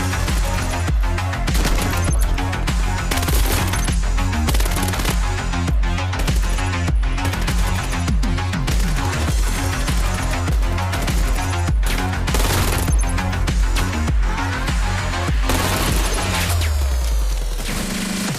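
Gunfire in the multiplayer shooter video game Vail crackles nonstop as rapid, overlapping volleys of loud shots, with booms and clattering impacts mixed throughout.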